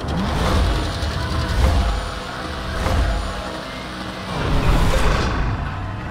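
A race car engine in Project Cars 3 revs and accelerates off the line, loud and close, rising in repeated surges over several seconds.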